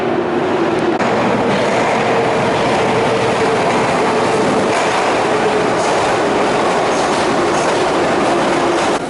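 A Saint Petersburg metro train runs between stations with a loud, steady rumble, rhythmic clickety-clack from the rail joints and occasional faint wheel squeal, close and continuous throughout.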